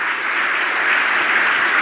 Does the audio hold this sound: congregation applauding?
yes